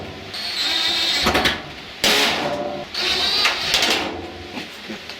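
Screws are driven into a panel of a Kenmore Elite dryer during a drum wheel repair: loud whirring bursts of about a second each, close up and separated by brief pauses, with no speech.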